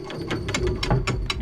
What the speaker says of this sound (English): It's just a big drawbridge sound.